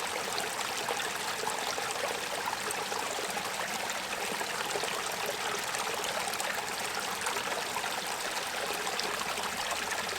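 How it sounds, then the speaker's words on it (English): Water flows steadily in a dug pit at a microhydro turbine site, a close, continuous broadband rushing and trickling with no other sounds. "There's just a lot of water in here."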